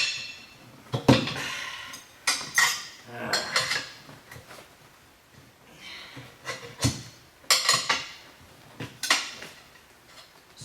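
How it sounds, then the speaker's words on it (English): A metal tire spoon levers a liner tire off a wheel rim, giving sharp metallic clanks and scrapes in irregular bursts, close and fairly loud, with quieter gaps between each pry. "now we're going to use the tire spoon to get the liner"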